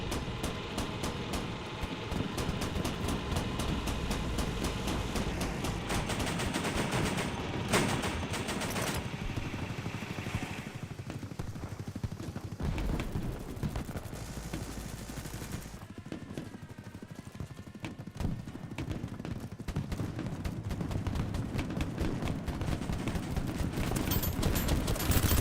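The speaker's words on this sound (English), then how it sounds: "There's a friendly shooting at that guy." Gunfire in the Battlebit video game, dense rapid bursts of shots clattering almost continuously, loud and close, with no talking.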